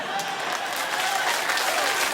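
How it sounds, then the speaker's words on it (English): Studio audience applause on a late-night TV talk show: a dense, loud, continuous wash of many hands clapping, holding steady throughout with no gaps. "Clap and enjoy."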